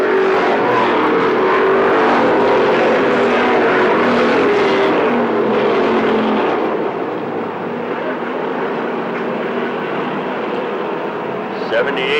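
Race cars circle a track late in a race, filling the air with a loud, continuous roar of several engines. The roar rises and falls as cars pass, then settles into a slightly lower, steadier drone.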